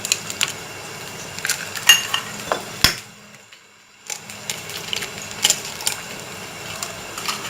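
Three eggs with milk and turmeric being whisked in a bowl for chicken egg fried rice, giving quick rhythmic clinks and scrapes of a utensil against the bowl, with a brief pause midway before the beating resumes.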